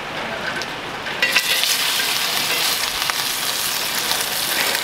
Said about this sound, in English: let's drop our steak in